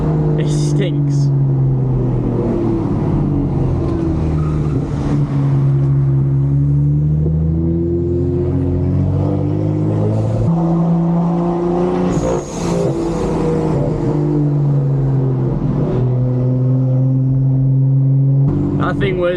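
A modified BMW 1 Series diesel with its particulate filter removed drones loudly close by. A steady engine hum shifts pitch as it changes gear, and voices talk over it throughout.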